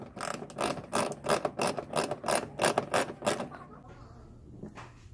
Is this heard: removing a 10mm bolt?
yes